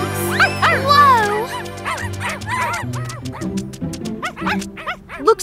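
Several dogs bark and yip excitedly in a rapid, overlapping burst of sharp, close barks and high whimpers from an animated cartoon, with a brief voice near the start.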